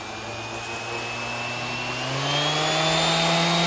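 An electric disc sander's motor whines with a steady tonal hum that rises in pitch and grows louder as its speed is turned up, heard alone and close.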